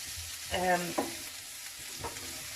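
Onions and garlic puree cook in a slow cooker pan with a steady, soft sizzle, briefly broken by a couple of louder stirring scrapes near the start.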